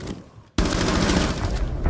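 Rapid gunfire in the tactical shooter game Rainbow Six Siege bursts in loud and dense after a brief quiet gap, continuing as a sustained volley to the end.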